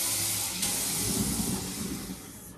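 Tap water runs steadily and hisses in a broadband rush for a short stretch while rice is rinsed in a kitchen, close and fairly loud, with no talk over it.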